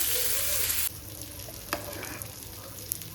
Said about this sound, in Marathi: आता आपण ह्याला मध्यम गॅसवर कमी गॅसवर शिजायला ठेवू.